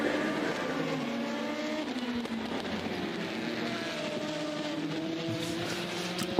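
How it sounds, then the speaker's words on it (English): Race cars roaring around the circuit during a 24-hour endurance race, a steady loud engine drone with overlapping pitch sweeps as cars pass, continuous with no talk. "Rebellion Racing now heading back out the circuit."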